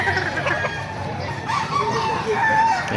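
Crowing from a rooster carries through a busy chicken market in Baliuag, Bulacan, moderately loud against a constant wash of people talking and scattered clucks.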